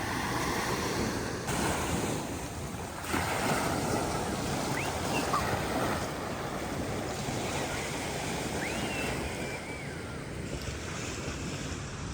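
Sea surf rolling onto the beach at Koh Larn island in Chonburi, a steady broad wash of waves with wind buffeting the microphone, continuous and fairly loud throughout, no talking.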